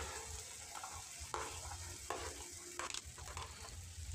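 Green peas tipped into a pan with softened tomato for mator polao, frying with a steady sizzle and a few sharp clatters and scrapes from stirring, close and alone with no voices.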